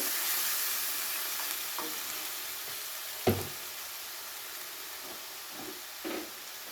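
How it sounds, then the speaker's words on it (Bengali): Poppy seeds, ginger and green chili sautéing in oil for a katla fish curry with mango paste, giving a steady close sizzle with a few soft knocks from stirring and no talk. "এরপরে খুব ভালো করে তেলের সঙ্গে পোস্ত, আদা আর কাঁচা লঙ্কাটাকে একটু কষিয়ে নেব"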